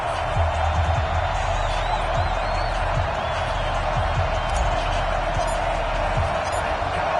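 Loud, steady stadium crowd roar from an EA Sports football video game, Giants versus Steelers, running unbroken throughout with scattered thuds and murmurs but no clear speech.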